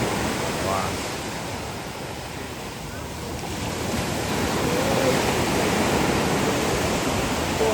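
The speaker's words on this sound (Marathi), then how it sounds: "आता आम्ही आलेलो आहे समुद्रावर." Sea waves wash onto the beach at Devbag on the Konkan coast, with steady wind noise, a broad continuous roar that swells and eases slightly.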